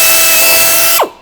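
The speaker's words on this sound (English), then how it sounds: "drill a 13/64 hole through that and rivet in place with a 102 rivet on the inside with a backup washer on the outside" A power drill boring a 13/64-inch hole through a plastic portable toilet panel, a steady high whine running about a second before the motor winds down and the pitch drops away, close and alone.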